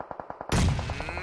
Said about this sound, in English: a perfect grenade coming in, and Thrish goes down